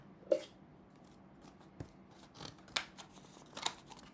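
Scissors snip at a sealed cardboard shipping box with no seam on top, a few sharp, separate cuts spaced out over several seconds at close range with no talk.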